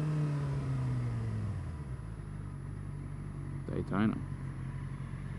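A motorcycle rumbles nearby while a person talks, its engine note falling steadily as it passes on the road, with a brief burst of louder noise near the end.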